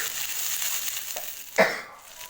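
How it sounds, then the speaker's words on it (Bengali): A ground paste of ginger, cumin and garlic being sautéed for a village-style egg curry, with a soft, steady sizzle and a sharper scrape or stir near the end, close by. "এবার মশলাটাকে একটু কষিয়ে নিচ্ছি আমি। দেখুন মশলাটা আমি কষাচ্ছি।"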